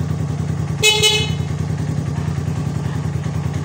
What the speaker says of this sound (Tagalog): tingnan natin busina